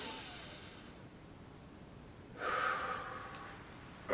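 Deep breathing during a back and hip mobility exercise: a long, close, airy exhale fades, then a sharper, stronger breath follows after a short pause.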